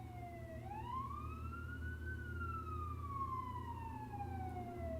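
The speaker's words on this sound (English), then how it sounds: "Now 1 day without a siren." An emergency vehicle siren wails steadily outside, rising and falling in long sweeping tones over a constant low rumble, moderately distant and continuous throughout with no talking.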